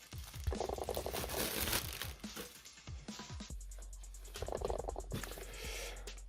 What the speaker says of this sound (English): Unwrap this.